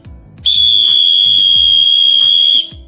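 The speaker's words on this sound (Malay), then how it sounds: "bila kamu dengar satu blow yang panjang tu, maknanya itu adalah daripada pasukan penyelamat" A single long, piercing blast on an emergency survival whistle, loud and close, held steady for about two seconds before cutting off.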